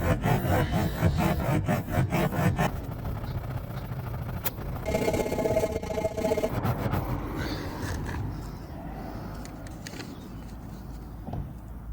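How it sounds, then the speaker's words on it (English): A reamer tool is pushed straight in and out of a car tire puncture, giving rough, rhythmic rasping and scraping strokes up close that soften toward the end. "now the site of the puncture is reamed and ready to go."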